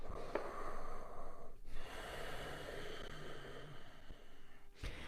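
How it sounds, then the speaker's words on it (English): Breathing in and out during a yoga flow session, audible close inhales and exhales with a soft snort-like rush of air, alone without talk. "Breathe in and out"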